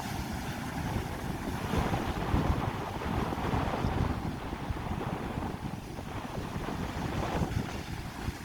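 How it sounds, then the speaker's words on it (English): Ocean waves and gusting wind on a cold Florida morning by the sea, a continuous loud rushing roar of surf mixed with heavy wind buffeting the microphone, with no voices. "check out the waves."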